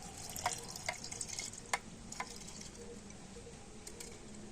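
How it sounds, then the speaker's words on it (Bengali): Soaked raw rice with water tipped into a mixer grinder jar, giving faint scattered drips and small splashes over a low background hiss, with no one talking. "তো জল সহ আমি চালটাকে মিক্সি জারের মধ্যে দিয়ে দিচ্ছি।"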